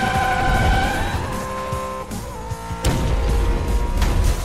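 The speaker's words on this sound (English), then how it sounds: "in the GT12, that normally just means knowing how to drift it" The GT12 car drifts and skids in the racing game Split/Second, its engine roaring steadily under long tire squeals, with a few sharp impact bursts near the end.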